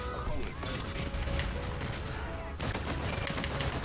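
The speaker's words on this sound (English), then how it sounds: "there's no way I was winning that gunfight without like a sight or something" Gunfire in a first-person shooter video game, dense and continuous bursts of shots with a brief break midway, mixed with other game noise and a voice talking over it.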